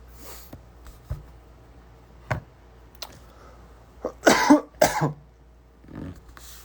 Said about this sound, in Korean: 이걸 하니까 기침이 나네요